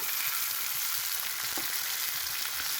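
Tomatoes tipped into onions browning in a frying pan, giving a steady, close sizzle throughout with a few faint stirring clicks and no talking.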